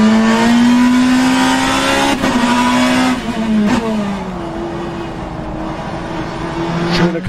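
BMW M3 E92 GTE race car in rFactor 2 at Oschersleben, its loud engine droning steadily with pitch shifts as it passes close by, revving and dropping through gear changes.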